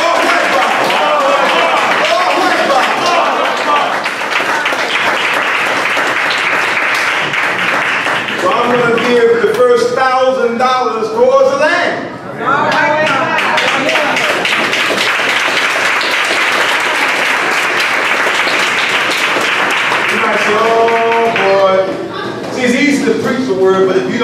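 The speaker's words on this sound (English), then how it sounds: "Let's give them all a round of applause." A banquet audience at a Unity Banquet in Atlanta gives a long round of applause, dense clapping that runs nearly throughout, broken midway and near the end by short stretches of speaking voices.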